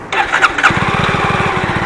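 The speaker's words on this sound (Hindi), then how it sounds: "भाई, स्टार्ट हो गई है जावा मोटरसाइकिल।" A Jawa 350 motorcycle with a weak battery cranks on its self-starter and catches, settling into a loud, close, rapid single-cylinder idle thump that runs steadily to the end.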